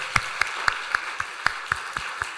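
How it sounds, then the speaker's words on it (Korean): Church congregation clapping in unison during a Sunday service, with about nine slow, evenly spaced claps over a light background hiss. "우리 박수하겠습니다."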